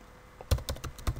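Typing on a computer keyboard during Unity3D coding, with about seven crisp, close keystrokes at an uneven pace and no speech.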